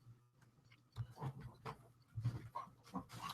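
Dogs playing indoors, with quick panting bursts, snuffles and small whimpers close by and fairly faint, coming in irregular clusters.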